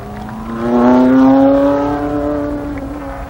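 An IMCA Modified race car at Columbus Motor Speedway roars past close by, its engine rising in pitch then falling away in a loud three-second pass with no talk.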